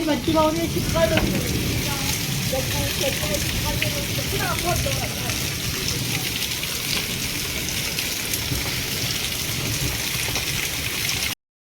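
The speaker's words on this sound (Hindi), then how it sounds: "और झमाझम बारिश आ गई" Heavy monsoon rain pours steadily in the Kumaon hills, a dense continuous hiss that stays loud throughout, with faint voices in the background early on.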